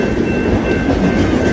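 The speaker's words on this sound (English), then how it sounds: "All the bypass trains that don't go into the yard use this rail." A freight train rumbles past loudly and steadily on a BNSF bypass line, with a continuous low roar of rolling wheels on the rails.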